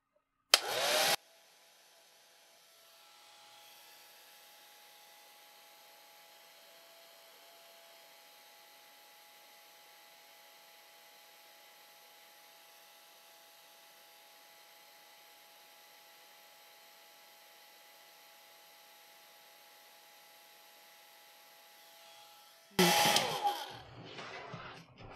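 A hair dryer blows steadily on a freshly painted watercolor fawn, a sustained whooshing hum that runs for about twenty seconds, with louder bursts as it switches on and off at each end.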